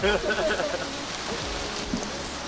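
Rain falling steadily outdoors at a car meet, a dense soft hiss of drops on surfaces, with a voice speaking briefly at the start.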